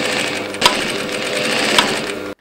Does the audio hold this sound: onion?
no